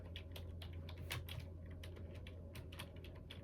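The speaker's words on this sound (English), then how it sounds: "We'll see how it does when I'm typing." Typing on a computer keyboard with long decorative nails, a fast irregular run of close, soft clicks over a low steady hum.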